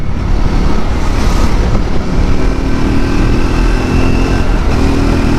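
A Triumph Scrambler 400XC motorcycle riding through water, its engine drone blending with dense, rushing splash and wind noise, loud and close throughout with no talking.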